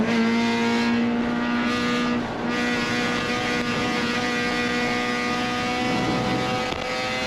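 GLTC race cars passing on track at Lime Rock Park, a continuous loud engine drone with tonal whine and a rising pass-by swell near the middle, steady throughout with no talk.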